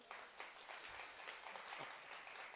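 Audience clapping at a Hindi patriotic poetry recital, a short burst of scattered hands from a crowd heard at moderate distance and fairly soft, with no voices over it.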